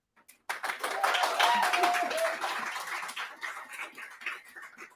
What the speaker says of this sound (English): All right, Amy, the class, clap it up one more time for her.